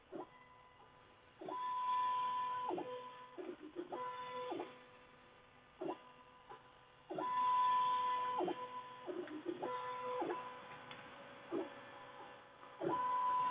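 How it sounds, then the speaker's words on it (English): A 3D printer running at 80 mm per second, with repeated tonal stepper-motor whines rising and falling in short bursts as the head moves, steady and fairly close under a faint background hiss. "so we're printing at 80 millimeters a second right now"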